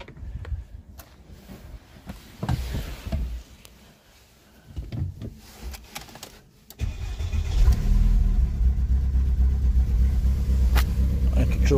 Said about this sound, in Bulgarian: Запалиме двигателя.